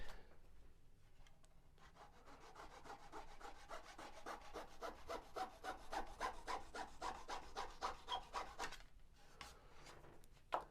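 Small hand saw cutting through wood on a model biplane fuselage, a close, steady rhythm of rasping back-and-forth strokes that speed up over about seven seconds before stopping.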